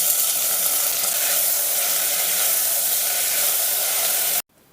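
Onions and tomato fry for dal in a hot pan, a steady loud broadband sizzle that holds evenly throughout before cutting off abruptly at the end.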